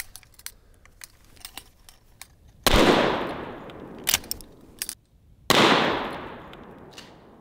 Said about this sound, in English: Now let's try the 12-gauge shotgun and see what the difference is.